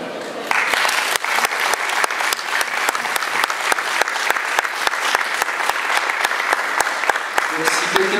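Loud, sustained applause from a large audience, dense clapping that continues steadily the whole time without letting up.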